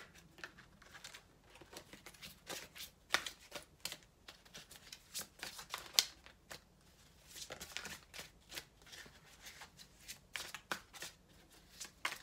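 Tarot cards being shuffled for a reading, a close, soft run of riffling and flicking with irregular bursts of card snaps, fairly quiet.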